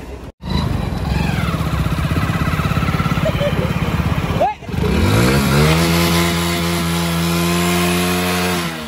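A motorcycle engine runs loud and close with a steady idle, cuts briefly, then revs hard with a rising, climbing whine that holds at high speed.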